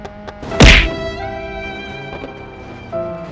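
A Ford Probe car in BeamNG Drive slams into buses with one heavy, sharp thunk of impact, followed by lingering rattles and a softer knock, loud and close.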